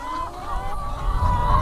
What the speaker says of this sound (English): We're out here with the red hens and the guard gooses.